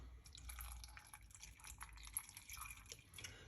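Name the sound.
water being poured into a mango smoothie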